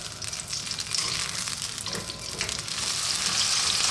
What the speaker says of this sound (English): So let's just fry these around for about 4 minutes.